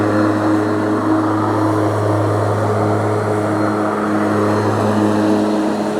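Mowrator S1 robotic lawn mower driving forward in a widening circle, a loud steady motor drone with constant blade whir and tonal hum, close and unbroken throughout with no talking.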